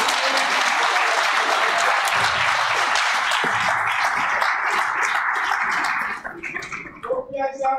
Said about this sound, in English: rise and give a good round of applause